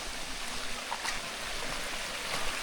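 A waterfall at Kondapalli near Vijayawada gives a steady, fairly faint rushing wash of water with no voices over it.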